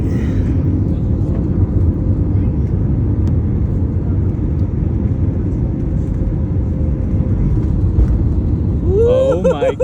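Jet engines spooling up as an airliner aborts its landing in strong winds and climbs away on a Seattle to Vegas flight, a loud steady cabin roar with a passenger talking over it.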